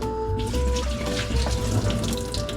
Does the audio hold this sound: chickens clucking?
no